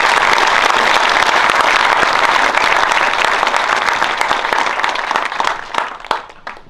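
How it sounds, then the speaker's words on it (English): Sustained loud applause from a large audience at a high school graduation ceremony, dense clapping that thins out toward the end with a few final scattered claps. "I would like to give a round of applause to the foundation of LHS"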